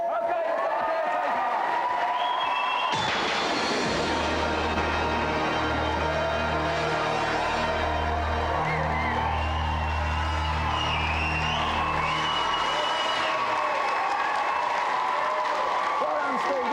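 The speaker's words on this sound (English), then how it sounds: "Let's have another big round of applause for this week's winner, Steve." Studio audience applause and cheering for the winner of the GamesMaster Golden Joystick, a loud sustained burst of clapping and crowd noise that swells and continues for several seconds, with a presenter talking over it.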